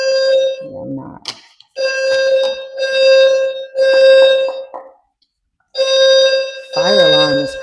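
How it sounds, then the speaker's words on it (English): A fire alarm blares in loud, steady pulses about a second long, each followed by a short pause. A person speaks briefly between the blasts and again over the last one. "Fire alarm is crazy."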